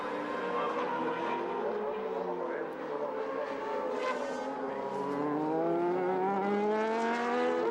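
DTM touring race cars screaming around the Barcelona circuit in 2007, engines rising and falling through gear changes as cars pass close and loud, with a commentator talking over them.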